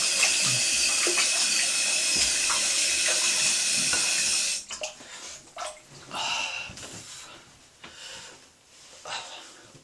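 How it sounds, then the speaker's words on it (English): Cold water runs loudly and steadily from a tap as a shaving razor is rinsed beneath it, then cuts off into softer splashes, drips and clatter at a sink. "So I'll just give it a quick rinse with cold water."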